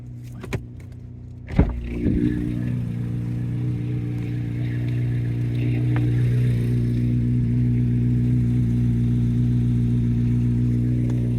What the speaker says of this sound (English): You hear the ticking motor?